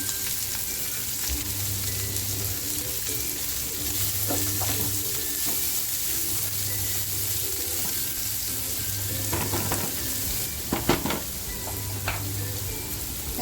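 Chili and onion dropped into hot oil with garlic in a pan while cooking anda rice, giving a steady, close sizzle and frying hiss throughout, with a few spoon-and-pan clinks and stirring scrapes near the end.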